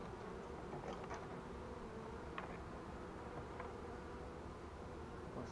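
Honeybees from a freshly caught swarm buzz steadily around a hive box outdoors, a continuous low drone with a few louder passes of individual bees close by, no talking.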